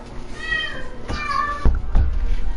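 A cat meows twice close to the microphone, a drawn-out rising cry followed by a shorter call, with a few thumps and low room noise.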